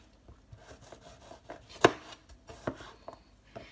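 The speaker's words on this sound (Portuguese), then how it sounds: "Vou usar aqui uns 5 dentinhos de alho, uns 2 grandes, 3 pequenos. É só cortar assim" A knife chops garlic cloves on a cutting board for tomato sauce, giving a series of light, irregular close taps with one sharp louder knock partway through.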